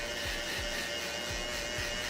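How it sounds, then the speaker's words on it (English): A Wahl 5-Star Shaper Shaver electric shaver hums steadily while it is worked over a head during a bald fade, a constant close buzz with faint rhythmic low thumps and no talking. "I'm going to use my Wahl 5-star Shaper Shaver to get it as smooth as possible."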